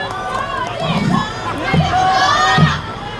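A crowd at a candlelight rally in Sejong welcomes a speaker to the stage with a steady, dense wash of noise, cheering voices and shouts rising and falling throughout.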